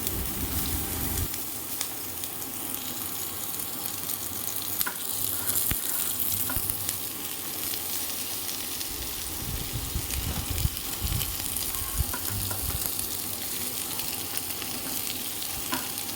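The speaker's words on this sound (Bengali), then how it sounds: "এরপর কড়াইয়ে আমরা পেঁয়াজ কুচি, আদা কুচি, রসুন কুচি তিনটেই দিয়ে দেবো।" Chopped onion, ginger and garlic fry lightly in a wok with a continuous, even sizzle and crackle that holds steady throughout, with occasional soft stirring noises.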